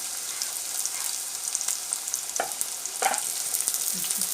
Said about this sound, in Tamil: இப்போ வந்து எண்ணெய் நல்லா சூடாயிடுச்சு இப்போ நம்ம வந்து வெங்காயம் போட்டுக்கலாம்